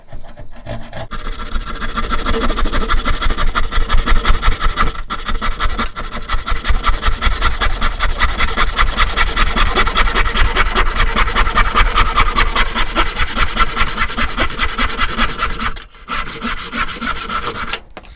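A hand saw cuts through the wooden body blank of a bass guitar, trimming off end pieces; steady rasping back-and-forth strokes run loud and close almost continuously, with a brief pause near the end.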